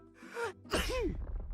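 A single person sneezing, a sharp inhaled gasp followed by a loud close burst, then quiet trailing breath.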